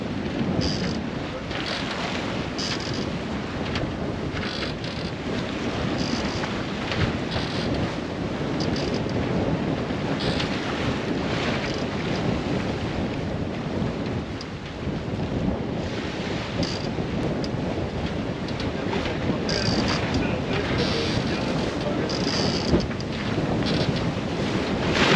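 Strong wind roars and buffets the microphone aboard a sailboat at sea, gusting to 28, with a continuous rush of waves and spray beneath and no breaks in the noise.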